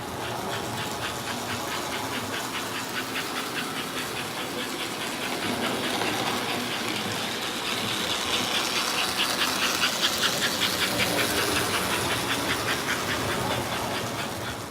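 An American Flyer model toy train, the Model 312, runs around the outer loop of its track, giving a steady chuffing, hissing rumble with a faint rhythmic clatter that swells slightly midway.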